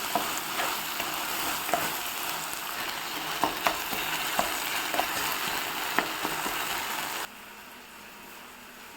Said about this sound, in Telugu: ఇది పచ్చి వాసన పోయే వరకు ఫ్రై చేసుకోవాలి.